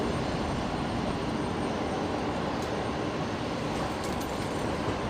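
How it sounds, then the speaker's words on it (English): A Qatar Airways airliner taxis to its bay at Brisbane Airport, producing a steady, broad engine rumble and roar that holds constant throughout, with no talk. "So Qatari obviously taxiing into, I think Bay 86 is where they normally pull up"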